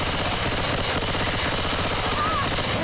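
Sustained, loud automatic gunfire from Left 4 Dead 2, dense rapid bursts running the whole time with no pause, close and harsh, filling the scene alone.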